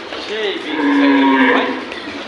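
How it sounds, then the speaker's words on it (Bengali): A large-framed Sahiwal cow moos once at close range, a loud, drawn-out low call that swells in the middle and fades, heard alone. "এটা বিশাল ফ্রেমের গরু"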